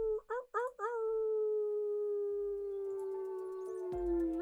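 A person imitates a wolf howl: three short rising yelps lead into one long, sustained, slowly falling howl, fairly close and clear in a quiet room, at the close of a full-moon guided meditation.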